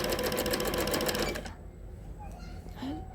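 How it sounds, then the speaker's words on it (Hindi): A sewing machine stitches the side seam of a velvet dress, a fast close rhythmic whirr for about a second and a half before stopping, followed by quieter handling sounds. "नेक्स्ट मैं अब साइड की स्टिचिंग कर रही हूँ।"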